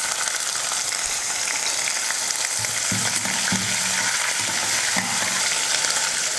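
Chana dal and green chillies fry in a pan with a constant loud sizzle, broken midway by a few soft scraping stirs; no voices.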